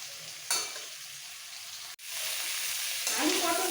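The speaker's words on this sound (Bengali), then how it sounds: "দেওয়ার পর পটল আলুগুলোকে একটু ভেজে নেবো" Pointed gourd and potato pieces frying in a pan sizzle steadily and close up, with the hiss swelling after a brief break and stirring scrapes heard along the way, no talking.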